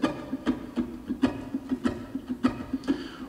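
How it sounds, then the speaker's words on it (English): A ukulele played purely as percussion, with no notes: quick, crisp muted taps and knocks on the strings and body form a steady syncopated drum-like rhythm, close and alone. "the no notes at a time is just the drum sounds"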